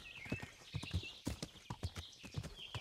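Horse hooves clip-clop in the video game Kingdom Come: Deliverance, a quiet, fairly quick walking rhythm of soft thuds with faint background ambience.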